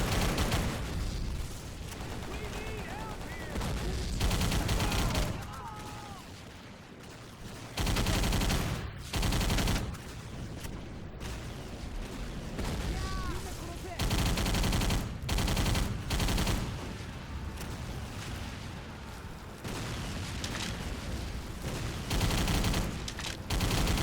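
Rapid bursts of gunfire from a first-person shooter game, loud and dense, with repeated volleys separated by short lulls and no talking.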